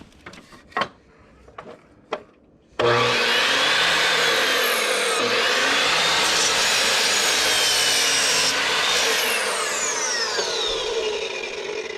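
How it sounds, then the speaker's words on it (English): A few sharp knocks on a wooden board for floating bookshelves come first. Then a power saw bites in and cuts a knot off the board in one long, loud, steady rasping whine up close. "I'm going to cut the knot off, and then I'm going to do my 6 12-inch pieces."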